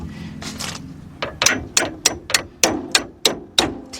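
A hammer drives a bolt into a Honda Accord front strut assembly with about ten sharp metallic taps at a steady, quickening rhythm, close up and clear, with no talking.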